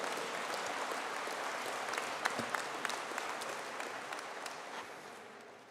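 A large audience at a university conferring ceremony for engineering and informatics graduates gives a sustained round of applause, a dense even wash of many hands clapping that holds steady and slowly thins toward the end.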